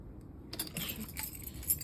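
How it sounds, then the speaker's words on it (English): A couple of keys jingle and clink briefly, close and fairly quiet, with a faint car sound underneath. "These are the 2 keys that were just given to me."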